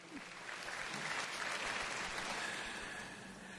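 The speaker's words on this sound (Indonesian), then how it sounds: "Beri tepuk tangan bagi Tuhan" A church congregation at a night prayer service bursts into loud, full applause, a thick unbroken roar of clapping from many people that holds steady and then eases slightly at the end.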